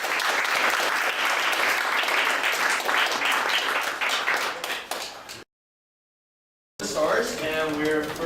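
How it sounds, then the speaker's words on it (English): Audience applause at a game presentation: dense, loud clapping from a crowd fills the room, then drops to silence before the clapping picks up again, close and sustained. "big round of applause"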